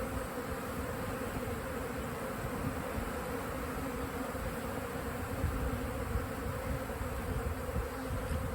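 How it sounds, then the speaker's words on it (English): A steady, droning buzz of many honeybees fills the air, continuous and even, with no voices over it. "Some bees there."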